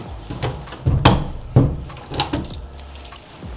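Keys jangle as someone tries to unlock a door in Finland, with close metallic rattles and scrapes broken by several sharp clicks and knocks at the lock, loud and irregular.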